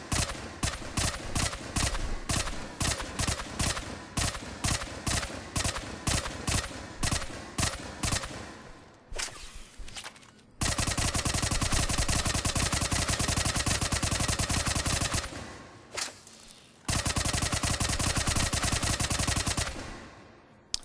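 Tempest submachine gun in Mass Effect 3 fires rapid close bursts, first in a string of short sharp volleys, then two long sustained streams of continuous automatic fire separated by a brief pause.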